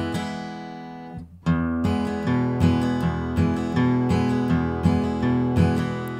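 Acoustic guitar for a song lesson: a single bass note rings first, then after a brief gap a loose, relaxed down-up strumming pattern of chords follows in an even rhythm, close and clear with no voice.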